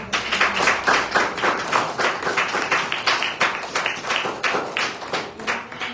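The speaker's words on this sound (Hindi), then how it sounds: "हम जोर से ताली बजाएंगे" A church congregation at a Sunday praise and worship service claps loudly in a steady, regular rhythm, about two beats per second, many hands in unison, sustained throughout and close.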